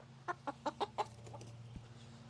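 A chicken inside a coop gives a quick run of five or six soft clucks, evenly spaced, then a couple of fainter ones over a steady low hum.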